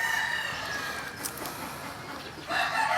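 Game farm chickens of Golden Dragon 888 stock, with a rooster's crow and scattered hen clucks close by, the calls rising at the start and again near the end over a busy farmyard background.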